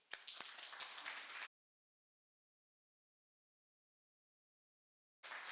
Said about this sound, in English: if we could take the time just to applaud her at this time